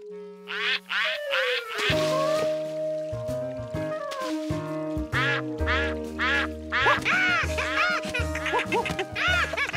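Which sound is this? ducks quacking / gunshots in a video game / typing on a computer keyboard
ducks quacking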